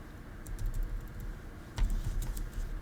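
Light tapping on a computer keyboard while entering an SQL statement, two short clusters of quick keystrokes separated by a pause, close but fairly quiet and with no talking.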